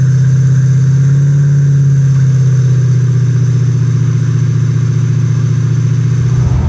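A supercharged 1964 Pontiac Bonneville engine runs loud and close, holding a steady deep drone with a strong low hum before building slightly toward the end.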